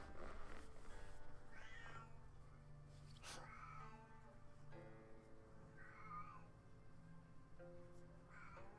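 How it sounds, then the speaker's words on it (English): A house cat meows several times, drawn-out and fairly faint, over a steady background of game music and ambient hum, with no talk. "That's the cat that's meowing,"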